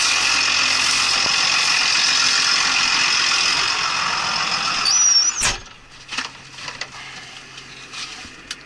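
A farm tractor runs while spraying a crop, a loud steady engine drone with whining spray machinery. It ends in a squeal and clunk, then quieter knocks and rattles as it winds down.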